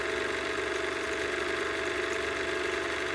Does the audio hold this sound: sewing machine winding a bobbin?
yes